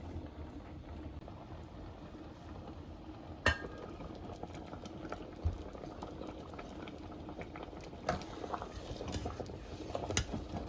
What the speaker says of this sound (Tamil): ஒரு நிமிஷம் கொதிக்கட்டும்